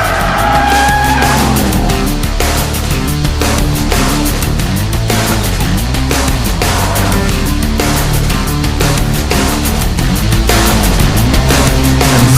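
A 2006 Jaguar XK coupe in final testing is pushed to its limits around the Nordschleife, its engine roaring loud and close throughout with rising and falling revs and tires squealing through the corners.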